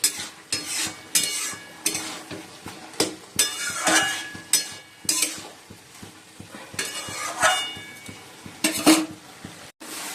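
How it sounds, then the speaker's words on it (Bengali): Chicken stirred and sautéed in a pan for a light curry, with a spatula scraping and clinking against the metal over a soft sizzle, in irregular strokes at close range. "এখন চিকেন কষানো হচ্ছে।"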